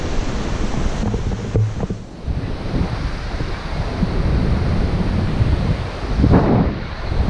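A river rushes in the gorge below the Victoria Falls bungee bridge, a steady broad roar of water overlaid with heavy wind buffeting the microphone from close by.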